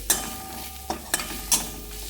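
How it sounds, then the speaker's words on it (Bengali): Onions frying in a little oil over a lowered gas flame, with a soft sizzle beneath four sharp scrapes of a spatula stirring the pan, close by. "সেহেতু একটু গ্যাসের ফ্লেমটাকে কমিয়ে দিয়ে ভাজবো পেঁয়াজগুলোকে"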